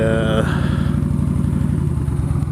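A Yamaha Stryker motorcycle runs during a ride on a hot Texas day, its engine a loud, close, steady low throb with dense rapid pulsing and a brief higher tone at the very start.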